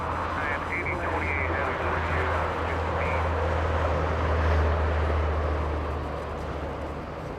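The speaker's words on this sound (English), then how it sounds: "Delta 816 flying in from Austin, Texas, 2 hours 49 minutes of flight time, and that's a good old A320" A 24-year-old Airbus A320 airliner arriving at Los Angeles International Airport from Austin, its steady broadband jet roar filling the air loudly throughout, swelling slightly midway, with duck-like quacking sounds and chatter mixed in.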